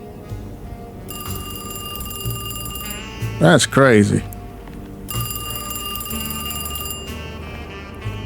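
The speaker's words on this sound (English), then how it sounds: "Somebody calling. Where's the phone?" In the Alone in the Dark video game, a telephone in a house rings in two long, steady bell trills with a pause between them. Someone speaks briefly in the gap while a low ambient hum continues underneath.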